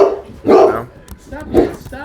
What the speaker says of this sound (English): his barks are coming up mad